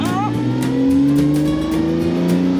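Classic rally car on the Tour Auto pulling away from a standstill, its engine revving up through rising tones, loud and close as from inside, with a voice heard briefly under the engine noise.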